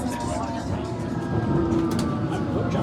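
London Underground 1938 stock train pulling into Westbourne Park station, with a steady rumbling interior drone, clattering wheels and a brief whine as it slows, heard from on board.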